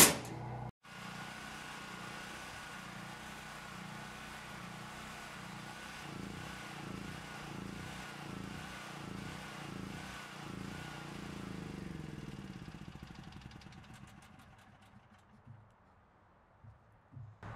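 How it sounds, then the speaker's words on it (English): A portable generator engine runs outside a house, a faint, steady pulsing drone that sputters and winds down to silence near the end. "And then we can go outside and turn the generator off."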